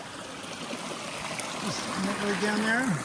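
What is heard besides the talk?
small stream flowing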